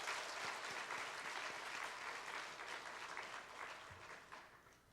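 Church congregation at a Sunday afternoon service applauding Bible college and discipleship course graduates, a continuous wash of many hands clapping that holds steady and slowly fades, heard from a distance and fairly quiet.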